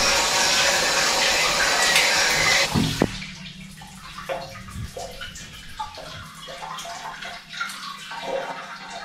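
Hotel bathroom shower running as a loud, steady broadband hiss of water for about three seconds, then abruptly cut off, leaving a quieter room with faint scattered knocks and small sounds.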